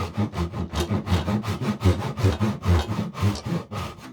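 A Spear & Jackson large tenon saw cuts hardwood held high in a saw vice, a close rhythmic rasp of steady back-and-forth strokes, each pull and push clearly separated, with some vibration ringing through the setup.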